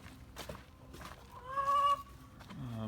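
A loud bird, fowl-like, gives a honking call near the microphone outdoors beside a building, with softer calls and faint background noise around it.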